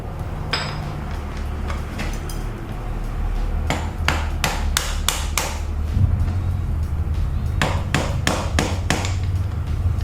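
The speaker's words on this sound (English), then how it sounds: "we'll need to hit it with the hammer" A hammer strikes a cracked front wheel bearing on a car during a bearing replacement done without a press, in sharp metallic blows, scattered at first, then in quick bursts of several hits, loud and close.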